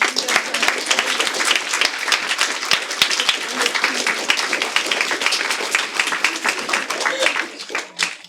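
Audience applause at an exhibition opening, dense, steady clapping from a crowd that carries on for several seconds and thins out at the very end.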